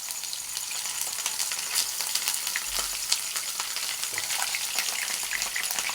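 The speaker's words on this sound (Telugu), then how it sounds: "చక్కగా 5 కాకరకాయలు ఇలా నూనెలో వేయించుకోవాలి." Stuffed bitter gourds fry in hot oil, giving a steady, close sizzle with crackling pops throughout, with no talk.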